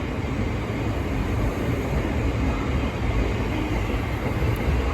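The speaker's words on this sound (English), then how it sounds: "now departing is the 1448 Thameslink service from Kentish Town to Rainham, Kent" A Thameslink train pulls out of London Bridge station, a loud continuous rumble of wheels and traction on rail that holds steady throughout, close by with no voices.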